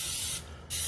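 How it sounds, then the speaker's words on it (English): Pam cooking spray hisses onto breaded pork chops in two close, steady bursts split by a brief pause, with no talking. "I'm going to use Pam spray. I'm going to just coat the pork chops"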